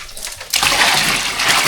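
Collected rainwater being poured from one container into another in a bathroom, a steady splashing gush starting about halfway through and continuing loudly to the end.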